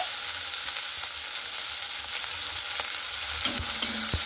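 Onions fry in hot oil with whole cinnamon and cardamom, making a steady close sizzle broken by occasional sharp clicks of stirring and a brief clatter near the end.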